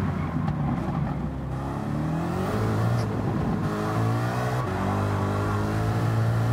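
A Lamborghini Urus engine in the racing game Gran Turismo 7 hums steadily throughout, with its pitch rising and falling as the car revs and shifts, loud and close with no talk.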